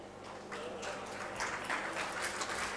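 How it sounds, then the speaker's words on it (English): Audience applause at an award ceremony after the presentation of a gold medal, certificate and cash prize: steady, fairly faint crowd clapping that continues for a few seconds. "A big round of applause."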